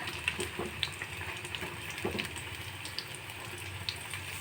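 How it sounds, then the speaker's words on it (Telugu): Ajwain leaf bajjis (battered fritters) deep frying in hot oil make a quiet, continuous bubbling hiss with small scattered crackles and pops, heard close and alone without speech. "తిప్పుకుంటే బాగా ఎర్రగా వేయించుకుంటే మన ఎంతో రుచికరమైన వామాకు బజ్జీలు రెడీ అయిపోతాయి"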